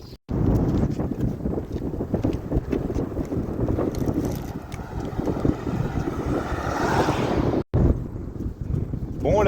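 Headwind on a road climb by bicycle: a continuous loud roar of wind buffeting the microphone, with occasional voice sounds underneath and a brief dropout near the end.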